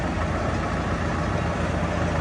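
A 2024 truck engine idles close by with a steady, loud, even rumble that continues throughout and has no voices over it.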